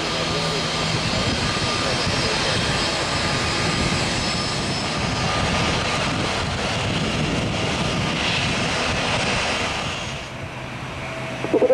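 An airplane landing or taking off at Salvador airport gives a sustained, loud, broadband jet roar for about ten seconds before easing off near the end.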